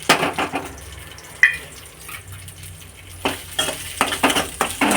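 Mustard seeds, curry leaves, crushed garlic, onion and dried red chillies frying in hot oil for a Mandya-style uppsaru, with a steady soft sizzle and stirring, then sharper clinks and scrapes near the end.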